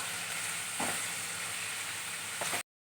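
Cabbage, carrot, onion and capsicum stir-frying in a kadhai, a steady close sizzle broken by two brief scraping stirs before cutting off abruptly.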